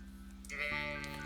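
Sheep bleating in the farming video game Stardew Valley: a single drawn-out synthetic bleat rising over steady game music, clear and up close.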